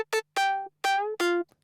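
Future house synth lead layered with a second lead, playing a short bouncy phrase of four bright, buzzy notes with sharp starts, close and clear with no voices.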